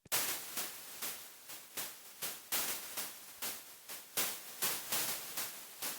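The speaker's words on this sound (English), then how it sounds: "So when I click noise only, this is what you're gonna hear." Bursts of hissing white noise from FL Studio pulse in a steady rhythmic pattern, each swell fading quickly before the next, like a shaker groove, with no voices.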